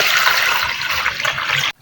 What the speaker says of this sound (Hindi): पानी इसके अंदर शामिल करेंगे तकरीबन 2 जग भर के